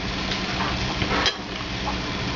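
Food sizzles steadily in a pan just after being flipped, a close, even crackle with a brief clatter of utensil against the pan partway through.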